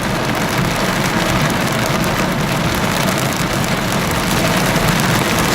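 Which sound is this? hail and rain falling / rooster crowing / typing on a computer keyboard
hail and rain falling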